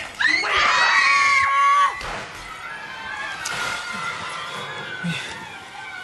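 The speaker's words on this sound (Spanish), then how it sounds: "Mira cómo están gritando los niños." Children screaming in a TV program, shrill overlapping cries loud for the first two seconds, then a fainter, noisy crowd-like din continues behind.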